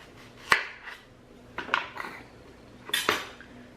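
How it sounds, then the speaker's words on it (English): A knife slices through a large zucchini, cutting it into thick steaks: three separate, sharp cuts spaced out over a few seconds, close and fairly quiet, with no voices. "I'll cut these, this part's really big, so maybe I'll do 3 thick kind of zucchini steaks here"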